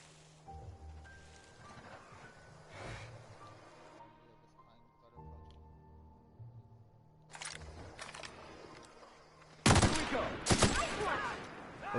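Gunfire in the video game Death Stranding, with broadband bursts late in the clip, the loudest near the end, over game ambience and background sounds.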